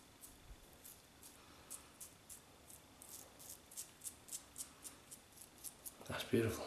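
A razor glides over a wet chin lathered with Palmolive shaving cream, making a rhythmic series of short, quiet scraping strokes that grow steadier and slightly louder, with a low voice talking beneath.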